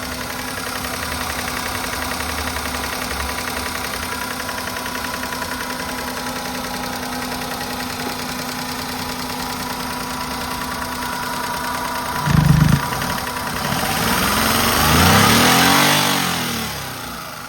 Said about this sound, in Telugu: ఒకసారి ఇంజన్ ఆన్ చేసి చూపిస్తాను, చూసుకోవచ్చు.